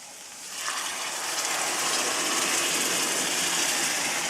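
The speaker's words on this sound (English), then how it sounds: "So now, I'm ready to put my water. 2 cups of water." Two cups of water pour into a pot of Mexican rice, a steady hissing gush that starts after a brief quiet moment and continues loud and unbroken to the end, close by with no speech.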